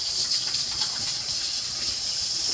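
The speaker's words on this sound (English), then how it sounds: "Let me rinse my hands really quick" Tap water gushing steadily as hands are rinsed under it in a kitchen, a close, continuous hiss and splash with no talk.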